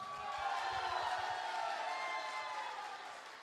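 Clapping and cheering from a crowd at a team meeting, a steady moderate wash of applause lasting a few seconds before easing off slightly.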